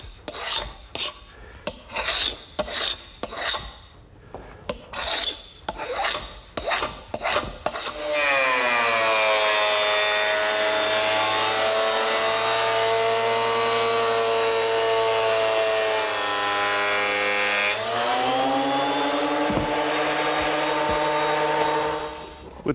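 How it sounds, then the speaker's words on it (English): A 12-inch surface planer smooths a wooden blank. A series of rasping feed bursts comes first, then a loud, sustained machine whine with strong tonal harmonics that holds for about ten seconds before shifting pitch near the end. "just wide enough to fit in a 12-inch surface planer, which is where I want to go next, smoothing up the top and bottom surface"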